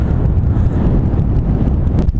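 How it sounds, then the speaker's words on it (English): Strong wind sweeps across a lake during a crappie fishing trip, producing a loud, continuous low rumble and buffeting that batters the microphone throughout, with no voices. "that wind is something fierce"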